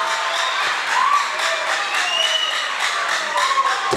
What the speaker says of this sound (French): Saint François de Sales, salve d'applaudissements, mesdames et messieurs.